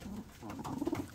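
Young pigeons cooing on their perches, a short run of soft, close low coos rising in a quick cluster near the end, heard alone.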